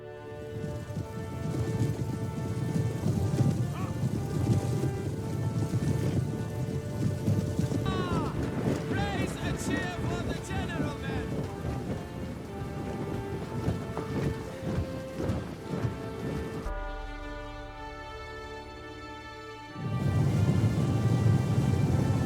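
Heavy rain pours across open plains at night in Crusader Kings 3, a dense steady hiss with rolling thunder rumbles, briefly cutting out before the downpour returns at full strength.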